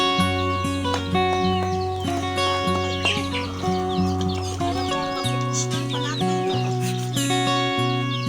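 Several chickens cluck and squawk close by, with overlapping calls and a steady low hum running underneath.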